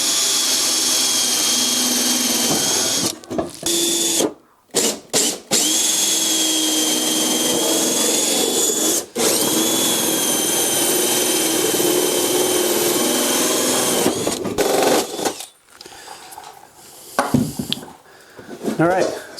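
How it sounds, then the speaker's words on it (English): A power drill whines loudly while boring holes through a metal pan, running in long steady bursts broken by brief stops and restarts near the end. "we're going to drill 3 holes into each one of these so we can stick the sockets through"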